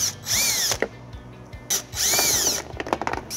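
A power drill fitted with a 3/16 hex bit backing out trunk bolts on a Honda Odyssey, whining in two loud close bursts with a few short clicks and taps between them.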